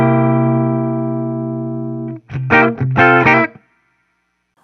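An electric guitar rings through a Fender Duel Pugilist distortion pedal: a long sustained chord slowly fades, then two short, punchy distorted stabs sound before silence.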